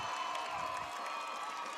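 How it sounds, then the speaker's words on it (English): A high school football crowd applauds and cheers after a quarterback sneak, a faint, distant wash of clapping and voices that is steady and brief. "That brings the applause from the crowd."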